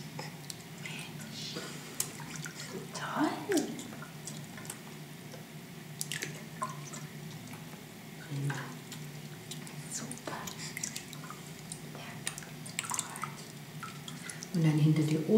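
Water drips and splashes softly while a baby is washed around the neck, scattered gentle wet sounds under close, quiet talk.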